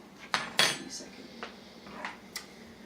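A small metal pan handled in a home kitchen while making homemade seasoning, giving a few sharp clinks and clatters, two louder knocks early then lighter taps spaced apart, close by with no talking.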